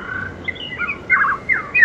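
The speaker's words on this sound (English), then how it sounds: "we got a little music, a little birds piped in here" Recorded birdsong plays through outdoor speakers in a backyard with a small golf par-three, short bright chirps and squawking calls repeating in bursts, fairly close and clear.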